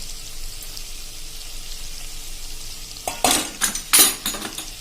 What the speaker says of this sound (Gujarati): અને એમાં આપણે અડધો ટેબલ સ્પૂન જેવું જ આપણે એટલે કે 2 ચમચી જેવો આપણે લોટ નાખી દેશું ચણાનો